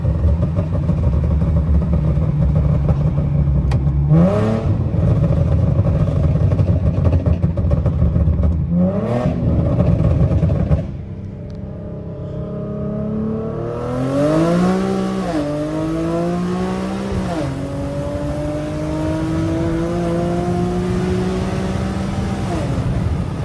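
A rear-wheel-drive Infiniti G37 pulls hard from a rolling start, engine droning loud inside the cabin, then climbing through several rising gear-shift sweeps with brief dips between, heard from the driver's seat.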